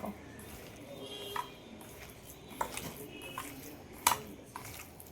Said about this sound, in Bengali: তো এইটাকে আগে আমি ভালোভাবে মেখে নেব।